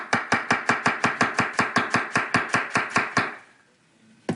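A knife chops a red onion on a cutting board in a brisk, even rhythm of about fifteen crisp, close knocks, then the cutting stops and the room goes quiet.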